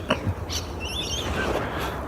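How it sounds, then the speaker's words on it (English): Rainbow lorikeets calling in an outdoor dawn chorus in March, with a few sharp, high chirps and screechy squeals over a busy background of other birds. "There's rainbow lorikeets,"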